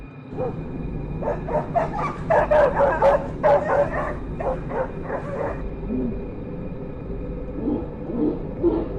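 A dog barking and yipping in quick repeated bursts, fairly close, followed by softer whimpering sounds toward the end.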